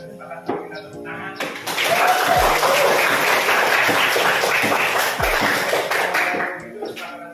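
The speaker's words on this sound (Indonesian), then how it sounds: "Sepakat, kita tepuk tangan." A school class claps hands together, a steady patter of many small claps rising after a teacher's voice and holding for several seconds before fading, with a couple of sharp knocks inside.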